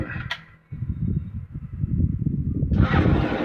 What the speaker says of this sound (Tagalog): Umandar kagad yung motor.